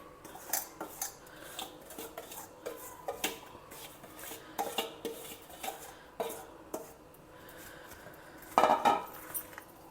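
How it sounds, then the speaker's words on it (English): A spoon scrapes and clinks against a pot while raw mango pieces are stirred into pickle masala, with irregular soft rubbing strokes and a few sharper metallic knocks near the end. "Mix everything so that all the pieces are coated well with this pickle spice mix or pickle masala mix"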